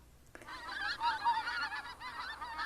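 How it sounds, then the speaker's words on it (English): A flock of geese honks close by near a small tower outdoors in the morning. The loud overlapping calls come in quick ragged bursts with no other sound between them. "there's the geese again. Noisy little guys."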